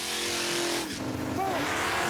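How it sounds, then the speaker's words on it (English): Drag racing cars, low 11-second machines in a 32-car runoff, roar off the starting line with a loud, continuous engine blare and a rising pitch sweep as they accelerate away. "The first of the 2 32-car runoffs roars out of the gate with the low 11-second cars"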